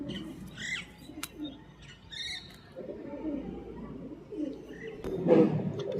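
Pigeons for sale, including red ones, give soft low coos and a few sharp chirps close by, with faint wing flutters and a brief louder burst near the end.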